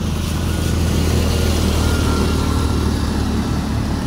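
Motorcycle engines drone loudly and steadily at close range as the bikes force their way through deep, fast-flowing floodwater on Taft Avenue in Manila, a constant rumbling roar with no pauses.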